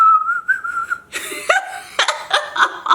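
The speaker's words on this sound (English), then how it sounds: "Like I could whistle sucking in" A thin, wavering whistle made while inhaling holds for about a second, then breaks into breathy giggles and laughter with a few whistled notes mixed in.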